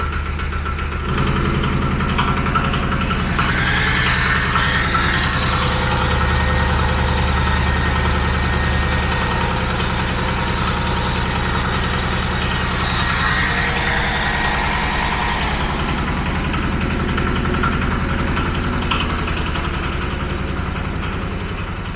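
A walk-behind tractor's diesel engine drives a 220V generator under load, running with a loud, steady low knocking throb close by, broken by brief swells in pitch, and no voices.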